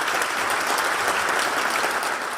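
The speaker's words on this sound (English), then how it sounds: "So I want to say a round of applause for everybody who's able to do that." Audience applause at a State of the City event, steady dense clapping from a large crowd, fairly loud and even throughout with no talk over it.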